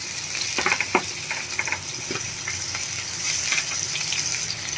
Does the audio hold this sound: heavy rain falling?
no